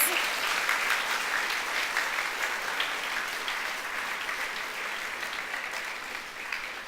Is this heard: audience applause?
yes